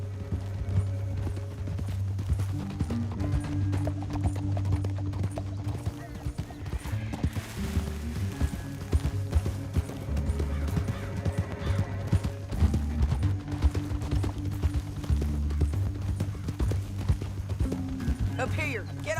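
Horse hooves in Red Dead Redemption 2, a steady clip-clop of galloping running throughout beneath a constant low drone and spoken game dialogue.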